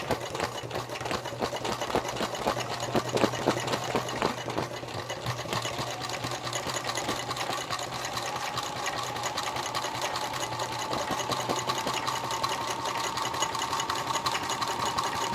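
A sewing machine stitches a fabric cover, giving a continuous, rapid mechanical chatter close by with a steady hum underneath and no talking throughout.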